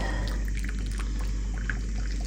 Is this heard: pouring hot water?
yes